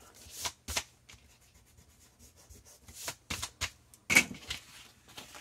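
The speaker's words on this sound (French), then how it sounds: "je vais gommer" An eraser rubs out a pencil line on a Christmas-themed craft album page, making short dry scrubbing strokes in quick bursts with brief pauses between them, close up and fairly crisp.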